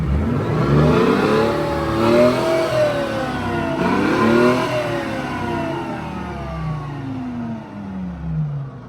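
An abandoned armoured personnel carrier's engine revving up and down in several rising and falling sweeps with a faulty throttle linkage, loud and close, easing off toward the end.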